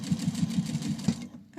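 Sewing machine stitching flat fabric with a presser foot, a quick, even mechanical chatter of about six stitches per second that runs for just over a second and then stops.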